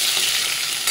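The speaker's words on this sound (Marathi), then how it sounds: "तेल गरम झालेलं आहे, त्यामध्ये राई, जिरं, हिंग, कढीपत्ता वगैरे सर्व घालून घेतलेला आहे" Mustard seeds, cumin, asafoetida and curry leaves tempering in hot oil, giving a loud, steady, close sizzle and crackle with no pauses.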